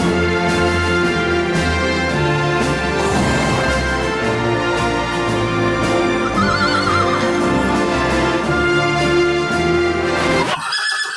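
A horse neighs loudly over a steady bed of music, with clip-clop hooves mixed in; the whinny and hoofbeats run through most of the stretch before the music cuts off abruptly near the end.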